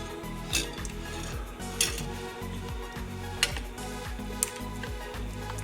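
Vegan persimmon pie filling being mixed in a pot, with a quick rhythmic low swishing churn broken by a few sharp clinks of a utensil against the pot, up close and without voices.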